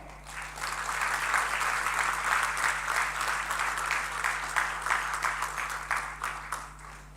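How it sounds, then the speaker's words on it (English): Sustained audience applause fills a campus convocation hall, a steady dense wash of many hands clapping from start to finish with a low electrical hum underneath. "I'd like to remind you about the applause."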